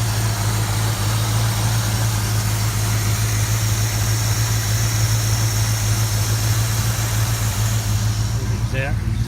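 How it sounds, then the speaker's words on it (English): A car engine idles steadily and smoothly up close, a constant low hum with no revving or knocking throughout. "Car will idle on its own."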